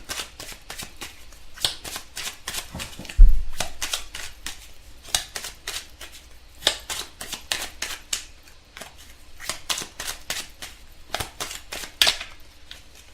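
Tarot cards shuffled and cut by hand at close range, a long run of quick crisp riffling bursts with a soft thump near the start, mostly alone with no talk.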